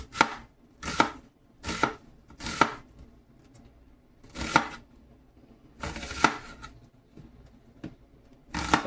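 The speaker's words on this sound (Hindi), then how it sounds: "हम प्याज को जो है वो स्लाइस में काट लेते हैं" A knife slicing onions on a board while making Punjabi biryani: about nine crisp, separate chopping strokes in an uneven rhythm, close and clear with quiet pauses between them.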